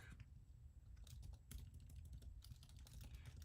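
Quiet typing on a computer keyboard, a patter of small clicks in uneven bursts, faint and set against a steady low hum.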